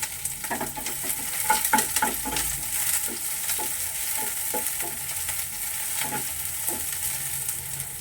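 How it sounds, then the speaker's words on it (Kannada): Onions frying in a hot pan, a soft steady sizzle with scattered crackles and occasional stirring scrapes, close and moderate in level, no voices. "ಸೊ ಈ ಕಾದಿರೋ ಪ್ಯಾನ್ಗೆ ನಾನಿವಾಗ ಫಸ್ಟು ಈರುಳ್ಳಿ ಹಾಕೋತೀನಿ"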